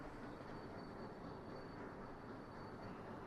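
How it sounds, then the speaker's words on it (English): A train pulling away in the railway-building game Sweet Transit, a steady broadband rumble of rolling wagons that holds an even level throughout with no voices over it. "there goes our train."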